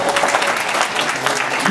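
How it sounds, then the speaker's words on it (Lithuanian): Audience applause fills a civic award ceremony hall at a municipal honours event in Raseiniai, Lithuania, a steady dense clapping from many hands throughout, fairly loud and continuous with no break. "Jūsų aplodismentai."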